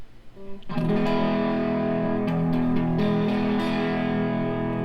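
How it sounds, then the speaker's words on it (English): An electric guitar rings out a strummed chord through a Vox AC30 amp at default settings, warm and slightly driven, sustaining for several seconds with a few light pick scrapes. "Okay, so let's see what the AC30 sounds like."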